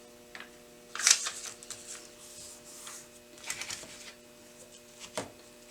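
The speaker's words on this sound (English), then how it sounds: "So we are going to fold over the paper" Paper for a paper-pieced quilt block is folded along a sewing line, giving a few soft crinkles and sharp creases close by, with quiet handling noise between them.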